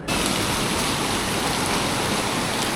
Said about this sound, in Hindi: तो बारिश अभी स्टार्ट हो रही है